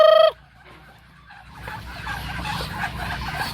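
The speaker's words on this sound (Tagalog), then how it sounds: "Yan mga kaibigan, unti-unti nang madami yung mga pato natin" Farm ducks quack and clamor in a flock, a sharp loud call opening before a busy chorus of overlapping quacking builds and continues at moderate distance.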